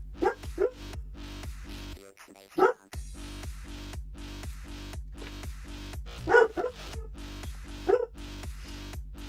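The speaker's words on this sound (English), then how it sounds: "Sorry for the dog barking in the background" A pet dog named Loki barks repeatedly indoors in the background, several sharp yelps spread across the clip with steady low hum underneath.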